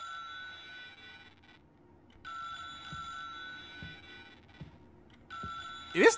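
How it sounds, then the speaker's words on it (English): A tiny telephone in a video game rings with a steady electronic trill that repeats in bursts with short gaps, accompanied by soft thuds and a voice reacting at the end. "It is the phone!"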